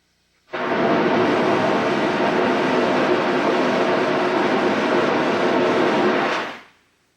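A 78-year-old steam locomotive on a heritage railroad gives off a loud, steady roaring hiss that starts abruptly, holds evenly for about six seconds, then fades out, with no voices.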